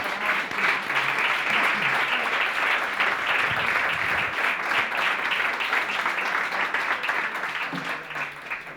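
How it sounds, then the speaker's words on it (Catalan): An audience at a 40th anniversary gathering of a social workers' professional association in Valencia applauds with steady, dense clapping that holds at an even level for about nine seconds before easing slightly at the end. "un aplaudiment per a elles"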